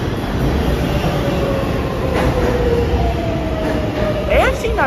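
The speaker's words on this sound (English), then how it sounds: "there's just a random 4 train that just showed up" A New York 4 train rumbles into the IRT Lexington Avenue subway station, a loud, continuous roar of rolling cars with thin wheel squeals rising near the end.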